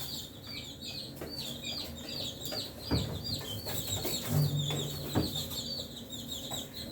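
Chickens in a farm coop give scattered clucks and short calls, moderately near, over a steady background hum with a few thumps and no talking.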